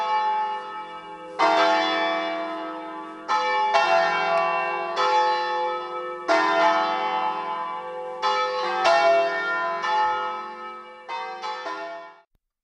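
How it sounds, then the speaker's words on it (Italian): A church bell tower tolls a series of resonant, ringing strokes in uneven clusters, each hum decaying slowly before the next strike, heard clearly with no other sounds. "Da lui si sono dispersi nell'aria i rintocchi della vita nostra e di chi ci ha preceduto negli ultimi 2 secoli e mezzo."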